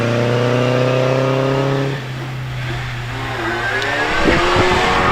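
A vintage MG Riley sports car spins its wheels as it accelerates hard off the line at a hill climb, its engine note loud and rising, then dropping into a rougher, noisier roar as it pulls away.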